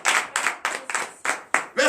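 A church congregation at morning prayer claps in acclamation to Jesus, six or seven sharp rhythmic bursts of many hands, with voices mixed in.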